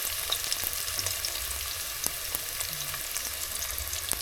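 Onion frying in a pan during village cooking in Bweyale, Uganda, giving a steady, gentle sizzle and crackle with occasional faint clicks, heard alone without speech.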